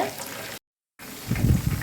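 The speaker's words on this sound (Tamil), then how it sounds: "இப்போ நம்ம எல்லா சோயாவையும் பொரிச்சு எடுத்துக்கலாங்க" Soya chunks deep-frying in hot oil over a high flame, a steady bubbling sizzle with a short silent gap, swelling louder toward the end.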